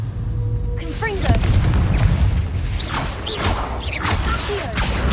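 A Confringo explosive spell blast in Hogwarts Legacy, a loud booming burst landing just after a second, followed by rumbling debris, whooshes and combat effects.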